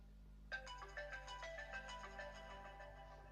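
A telephone ringtone plays at close range over a low steady hum, a bright melodic pattern of repeating chimes that starts abruptly and keeps going without talk over it.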